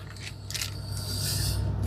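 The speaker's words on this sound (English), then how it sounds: "slice open the plastic bag, and out come the sprues" A blade slices open the plastic bag holding the sprues of an Airfix 1/48 De Havilland model kit, with a few short crinkly scraping bursts building into rustling plastic, close and fairly quiet.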